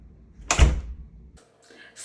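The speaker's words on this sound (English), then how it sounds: "It's the type of door that if you shut it or if you let it go, it'll shut automatically." A heavy apartment door swings shut on its own with one loud, close thud and a low rumble, followed by quieter rattling and a brief click of the latch.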